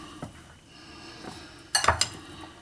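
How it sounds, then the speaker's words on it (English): A spoon stirs a potato, celery and red pepper salad in a bowl, giving a few soft scrapes followed by a brief cluster of bright clinks and knocks against the dish, close and fairly quiet. "Next up, we're going to just give all of this a little bit of a mix."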